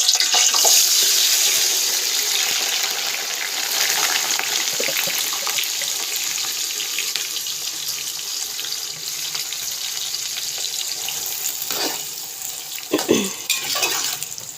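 Thick-cut onion chunks tipped into very hot oil for a home-style korma, giving a steady broadband sizzle and hiss that runs close and loud throughout, with a few sharper spits and clatters near the end.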